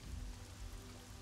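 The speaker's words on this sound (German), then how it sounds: "ihr steht jetzt in einem strömenden Regen" Steady pouring rain fills the space as tabletop RPG ambience, a dense, even hiss with a low rumble underneath, constant and unbroken throughout.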